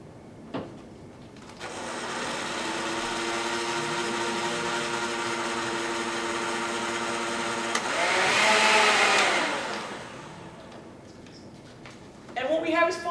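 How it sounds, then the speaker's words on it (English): A blender whirs steadily for several seconds, whipping castile soap and peppermint essential oil into a foamy rug cleaner, its motor tone shifting and rising in a louder burst before stopping, with voices talking around it. "the blender."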